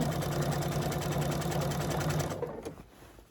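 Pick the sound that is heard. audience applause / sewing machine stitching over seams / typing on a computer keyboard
sewing machine stitching over seams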